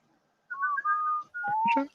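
A person whistles a short melodic phrase of sustained notes nearby, two brief runs separated by a pause.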